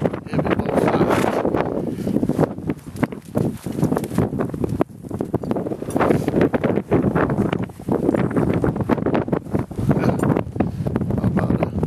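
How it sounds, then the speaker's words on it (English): Strong wind buffets the microphone on a high mountain pass, a loud continuous roar with gusting bursts and rumbling that never lets up. "Windy up here."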